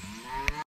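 A cow in a pasture with a few other cattle lets out a low, drawn-out moo, close and clear, with a brief sharp click near the end before the sound cuts off.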